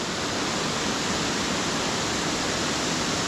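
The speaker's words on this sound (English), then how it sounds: "it's really wide and running powerful down to the bottom splash pool here" A wide, powerful waterfall pours down into a splash pool inside a circular cavern, making a steady, loud, close hiss and roar with no voices.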